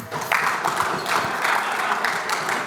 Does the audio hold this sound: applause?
yes